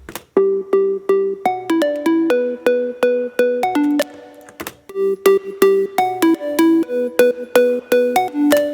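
A fat synth layered with white noise and sidechained in a 90s house style, pumping in short rhythmic chord stabs with a bright, bell-like top line; steady and loud, no voices.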